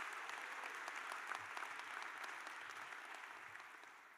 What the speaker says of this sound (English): I think that in itself deserves a round of applause.